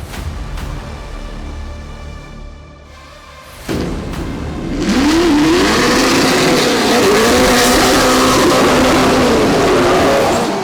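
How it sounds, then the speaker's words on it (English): A high-performance car on a commercial shoot for an auto-parts retailer revs loudly after a brief lull. The engine note climbs and wavers in repeated surges, sustained and close for several seconds. "people react well to high octane vehicles where they shouldn't be"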